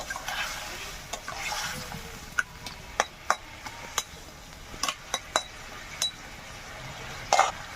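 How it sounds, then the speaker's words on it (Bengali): A spoon stirs Bengali pumpkin, Malabar spinach and fish-head curry in a pot, giving a run of sharp metallic clinks and scrapes at uneven intervals over a soft, low sizzle, close by. "এবার কষা হয়ে গেছে, জল দিয়ে দেবো। একটু নাড়াচাড়া করে নেব।"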